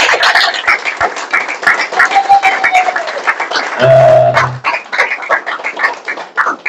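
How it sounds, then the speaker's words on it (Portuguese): A crowd at an extraordinary session of a Mozambican party's executive commission claps loudly and strongly, dense applause running throughout, with a brief tonal voice or whistle rising above it near the middle. "peço uma salva de palmas bem fortes para todos vocês que estão aqui"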